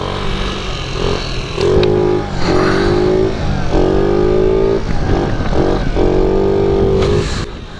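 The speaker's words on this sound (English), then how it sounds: "It's been a while since I got on the 50 for some wheelies." A 50cc moped engine revs hard during scooter wheelies, its buzzing pitch climbing in several loud, close bursts with short dips between them.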